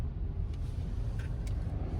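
A car drives through road traffic in the Konkan region, heard from inside as a steady low engine and road rumble with faint brief hisses of passing vehicles and no one speaking.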